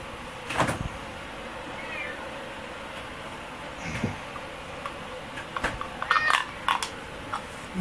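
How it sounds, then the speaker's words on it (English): A cat meows a few times, faint and intermittent, over a low background hiss with occasional knocks and clicks. "Kitty, go meow."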